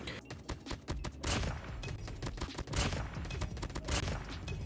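Rapid gunfire in the mobile shooter COD Mobile, a dense, continuous stream of loud, close shots and crackling bursts with no pauses or talking.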